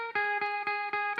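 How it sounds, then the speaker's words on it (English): Electric guitar played through a chorus effect pedal sounds a sustained, shimmering chord restruck about five times at an even pace, clean and alone. "So if I just press it with the chorus, it sounds like this."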